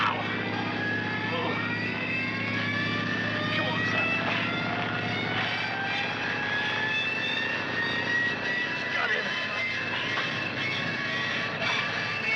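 A vintage 1942-era propeller aircraft engine is cranked and running, a loud, steady droning roar with a shifting whine throughout, dense and continuous with no pause.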